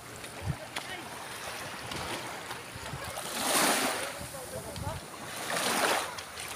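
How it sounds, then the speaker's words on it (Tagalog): Waves wash in and swell twice in broad surges over steady water noise, with some wind, moderately loud and close. "Nindot kayo ang tingog sa dagat"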